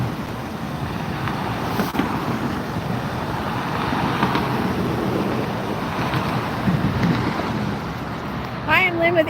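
Wind blows hard and steadily outdoors at Las Vegas airport, a continuous breezy rush buffeting the microphone for several seconds with a few stronger gusts near the end.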